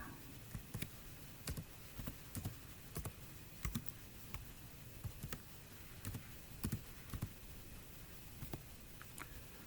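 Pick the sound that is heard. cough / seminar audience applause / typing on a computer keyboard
typing on a computer keyboard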